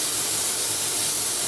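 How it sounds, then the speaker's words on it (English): Metallic paint hisses from an airbrush over a silver panel painted with bullet holes, a constant, fairly loud stream of airy spray noise throughout, with no voice. "why not spray metallic over the bullet holes first?"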